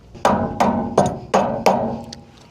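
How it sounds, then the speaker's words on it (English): A boat trailer wheel hub is hammered onto its axle spindle in five evenly spaced, loud, close blows, each ringing out metallically before the next strike. "Might have to knock it in place a bit."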